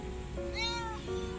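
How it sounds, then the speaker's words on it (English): A male stray kitten gives a single clear meow with a rising and falling pitch, heard close up over a steady low background hum. "A new stray kitty has come to our house and she's really, really cute."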